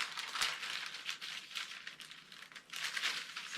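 Fabric is folded and handled while sewing pieces for a women's shirt are laid out, giving a continuous soft rustling and crinkling at close range.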